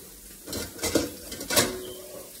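A spatula scrapes and clanks against a pan while flipping a homemade burger patty, giving two or three close metallic knocks in quick succession.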